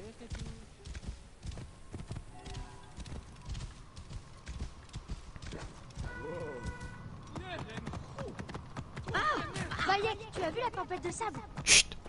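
Horse hooves clip-clop in Assassin's Creed Origins, a steady galloping rhythm carried through the whole stretch under game music, ambience and occasional character speech, growing busier near the end.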